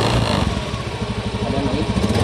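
A Honda Scoopy eSP motorcycle with a no-start fault is revved close up, its engine giving a loud, continuous, slightly clattering drone throughout, with no speech.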